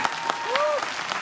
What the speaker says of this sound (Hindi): एक बार दोनों हाथ उठाकर अब तक की सबसे बड़ी तालियां देंगे आप संतोष जी के लिए